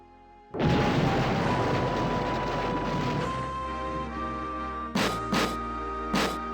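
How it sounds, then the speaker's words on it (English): A sudden heavy explosion behind a sealed door in the video game Space Quest 6 booms and keeps rumbling loudly for several seconds, followed by a few sharp bangs near the end. "Just then, you hear and feel an explosion, which seems to have come from behind the door."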